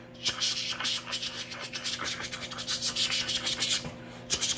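Steady rough scratching and rubbing of a homemade knife being sharpened, like a blade scraped repeatedly across stone, with a rhythmic rasping texture throughout and no voices.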